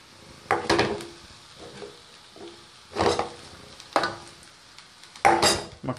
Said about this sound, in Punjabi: ਮੱਖਣ ਐਡ ਹੋ ਗਿਆ, ਇਹਨੂੰ ਹਿਲਾ ਦਿੰਦੇ ਹਾਂ ਆਪਾਂ, ਮਿਕਸ ਕਰ ਦਿੰਦੇ